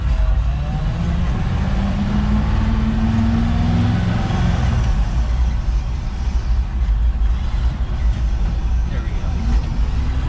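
A 1965 Ford F600 hauler truck engine runs loud and close, rising in pitch through a gear, then shifting into second and pulling steadily under a continuous rumble, with people talking over it.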